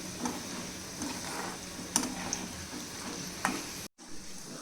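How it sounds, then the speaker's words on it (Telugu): Asafoetida frying in hot oil until golden brown for a quick raw mango pickle makes a close, continuous sizzle with occasional light clicks and stirring taps, cut by a brief silence near the end. "మంచిగా కొంచెం గోల్డెన్ బ్రౌన్ వచ్చే వరకు వేగనిద్దాం."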